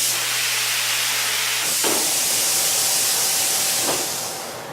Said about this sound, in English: 8 seconds later, the machine will spray again.